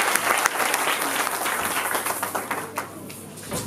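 A church congregation at a Sunday prophetic service in Belgium applauds, a dense, loud wash of clapping that tapers off toward the end, with some voices mixed in.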